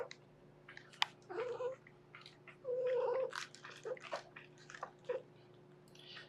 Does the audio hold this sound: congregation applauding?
no